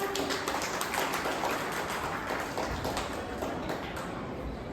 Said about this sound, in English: Please give a big round of applause for the past two performers.